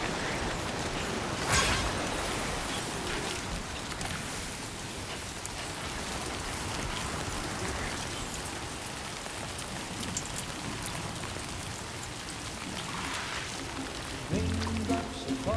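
Steady rain pours down in the video game Death Stranding 2, a dense, continuous hiss of drops hitting surfaces that stays loud and even throughout.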